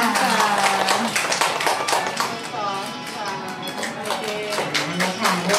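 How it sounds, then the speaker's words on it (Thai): Guests clap at a Thai wedding ceremony at a traditional Thai house, a dense patter of many hands running steadily throughout while people talk and voices carry over it. "ปรบมือหน่อยค่ะ"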